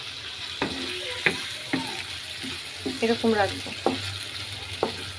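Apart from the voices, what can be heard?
hilsa fish frying in a pan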